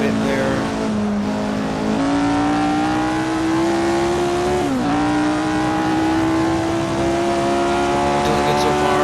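Jim Clark's vintage Formula 1 car roars around the 1966 Monza oval in Assetto Corsa, a loud, continuous high-revving engine note climbing steadily through the gears with a brief dip at a shift, close and dominant throughout.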